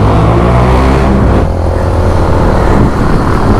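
A Ferrari accelerating past, with a loud, steady engine roar all the way through. The tone shifts about midway as the car goes by. No one speaks.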